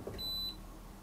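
A Makita BAC01 inverter gives one short, clear electronic beep lasting about a third of a second over a low steady hum, with no speech.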